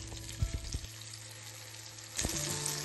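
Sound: frying masala-coated brinjal slices on a tawa

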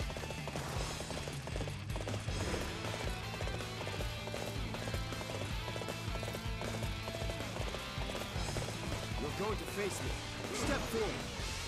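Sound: horse galloping in Dynasty Warriors 8 video game

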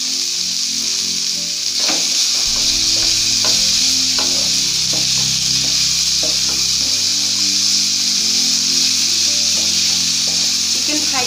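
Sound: chicken frying on medium gas flame

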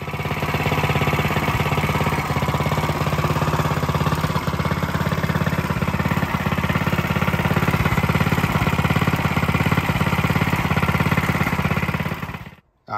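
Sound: Coleman CT100U Doodle Bug mini bike engine starting and running

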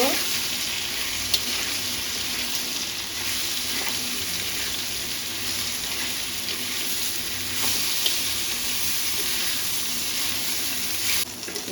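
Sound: eggplant frying and being stirred in a pan

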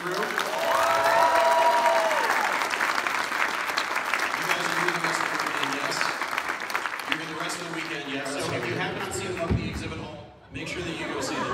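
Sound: audience applause for the crew

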